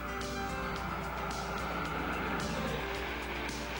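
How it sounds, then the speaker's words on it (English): A 1962 Corvette with a 327 cubic inch V8 of over 340 horsepower drives along, its engine a dense, steady roar with road noise, loud and continuous without breaks. "This 62 Corvette has a 327 cubic inch engine that produces over 340 horsepower."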